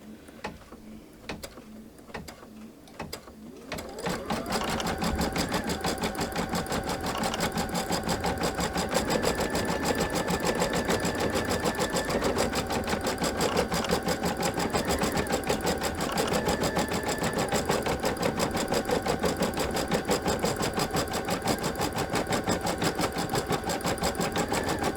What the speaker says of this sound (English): it's going to do the quilting stitch on top of this project